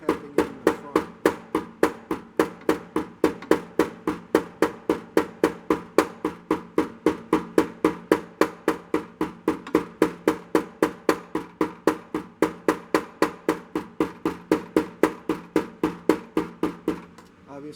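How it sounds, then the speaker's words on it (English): A hammer taps a cutting strip into a cutter, a long run of sharp, evenly spaced strikes, roughly three per second, that stays steady and close throughout. "Back again, tapping the strip in with the hammer."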